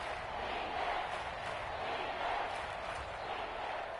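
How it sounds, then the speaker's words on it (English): Stadium crowd noise in a Madden 23 game, Chiefs playing, a fairly quiet, steady murmur of a distant crowd with slight swells. "Crowd getting in it a bit already."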